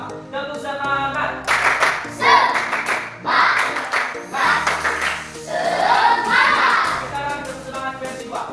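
Fourth-grade classroom children performing a rhythmic group clapping chant, version one, with sharp bursts of claps alternating with chanted voices and an adult leading, loud and close in the room.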